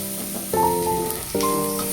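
Steady, close sizzling of spices frying in a pan, with metallic tonal clinks from stirring breaking in twice.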